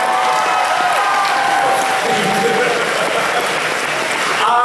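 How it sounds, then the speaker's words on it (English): A loud crowd at an anime convention stage show applauds a performer named Mark, thick continuous clapping mixed with some cheering and whistle-like tones, staying strong for several seconds. "Round of applause for Mark, everybody."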